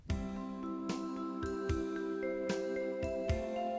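Bright, ringing vibraphone-like keyboard tones strike in a repeating stepped pattern, each note sustaining and overlapping the next, clear and fairly close.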